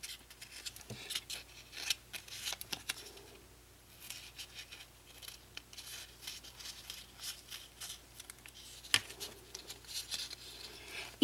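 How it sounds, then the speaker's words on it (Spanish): Scissors snip and crunch through a foam ball to halve it for a craft project, with soft irregular cutting and rustling close by and no talk. "Así que vamos a recortar"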